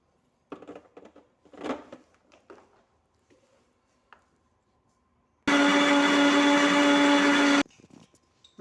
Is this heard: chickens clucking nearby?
no